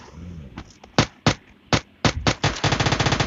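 Gunfire in PUBG Mobile Lite: several separate loud single shots, then a fast sustained burst of automatic fire toward the end, close and sharp with no talking.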